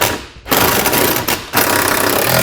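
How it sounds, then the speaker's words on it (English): Lock nuts tightened with a 19mm socket and wrench while installing a hidden trailer hitch receiver: close, busy metallic ratcheting and clicking in quick bursts, with two short pauses between runs and no speech. "We can now tighten down all of our hardware using a 19mm socket and wrench"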